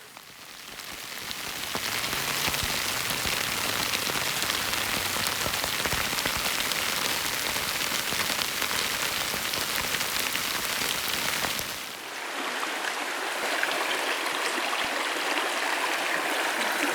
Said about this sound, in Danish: for det regner